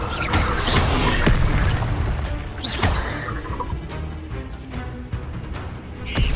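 The Incendio fire spell in Hogwarts Legacy on PS5 fills the scene with loud booming, crackling bursts and impacts from combat, dense and continuous throughout.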